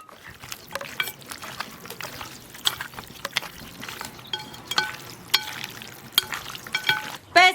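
Marinated pork ribs are mixed with fried soybean paste in a bowl, giving wet squelches and sticky slaps in an uneven rhythm, close and fairly quiet, with no talking.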